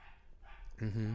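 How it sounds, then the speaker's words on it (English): A dog gives a short, loud bark or yelp near the end, after a stretch of quieter indoor background noise. "Sorry if you guys can hear barking."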